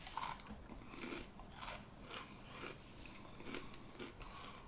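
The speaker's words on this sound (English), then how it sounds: "it's a Pringle, so you know it's going to have a little bit of crunch to it." Quiet, close crunching as Japanese steak flavored Pringles potato crisps are bitten and chewed, a few brittle snaps followed by softer chewing, no talking.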